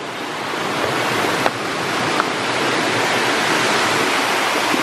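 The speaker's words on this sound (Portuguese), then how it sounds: "Mas vou mostrar pra vocês aqui a cachoeira, como é que ela é." A waterfall made of four drops in sequence sends out a loud, continuous broadband rush of falling water, close and steady throughout, with a couple of faint clicks and no talking.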